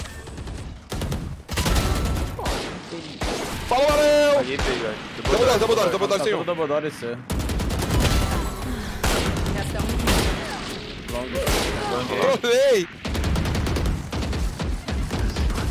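Rapid bursts of video game gunfire crack repeatedly over lively Portuguese chatter from players, with shots clustering densely and then spacing out through the stretch.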